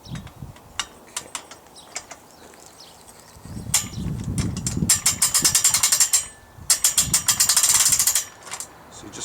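Washing line being wound onto a spool during washing line kit setup, heard as a run of quick ratcheting clicks and mechanical rattles in bursts, some dense and some sparse, with low rustling handling noise between them.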